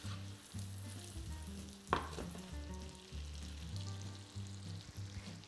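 Salted butter sizzles with potatoes in a pan for pommes noisettes, a soft, fairly faint frying crackle over a low steady hum, with one brief sharper knock near the start.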